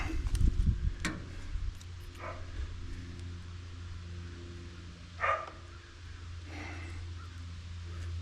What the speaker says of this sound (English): The heck's that dog barking about now?